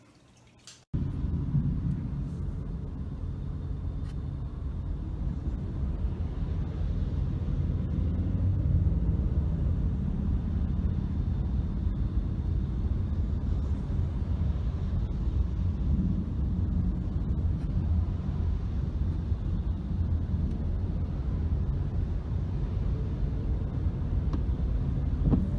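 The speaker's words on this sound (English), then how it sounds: "See all that traffic, or all this traffic? This is eclipse traffic" Heavy eclipse traffic on the road produces a steady, continuous low rumble of passing vehicles, heard from close by and without pause, with no talking.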